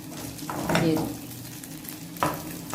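A filled frittata sandwich fries in a pan until golden, giving a steady close sizzle with a couple of brief scraping stirs and a soft utensil clink.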